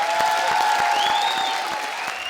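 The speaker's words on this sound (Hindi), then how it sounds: "सुदेश, कीकू, सिद्धार्थ, सिद्धार्थ, कृष्णा और भारती के लिए सबसे जोरदार तालियां।" Studio audience claps loudly and steadily for a group of comedy performers on a Hindi TV comedy show, a dense continuous wash of applause with a sustained musical tone beneath.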